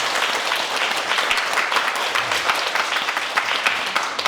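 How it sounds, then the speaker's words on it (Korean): An audience applauds in a talk-and-answer session, a dense, steady wash of many hands clapping that holds at an even, fairly loud level from start to finish, with no voices above it. "축하의 박수를 한번 보내주세요"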